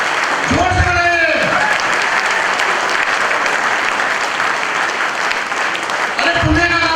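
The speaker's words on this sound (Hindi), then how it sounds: "जितनी बार ताली बजाओगे" Audience at a motivational leadership event clapping steadily for the whole stretch, dense and sustained, with a voice cutting in briefly near the start and again near the end.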